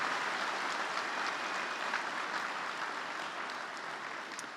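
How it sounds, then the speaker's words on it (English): A crowd at CPAC 2018 claps steadily throughout, a dense continuous applause that fades slightly toward the end. "Would you give Karen one more round of applause for all that she does"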